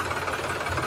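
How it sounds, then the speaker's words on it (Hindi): Heavy loaded tractor engine labouring while stuck in mud during the rainy season, a continuous rough diesel clatter and rumble close by with no pauses. "ये लोड वाला ट्रैक्टर है और ये फंसा हुआ, इसको दूसरा ट्रैक्टर खींच कर निकालेगा"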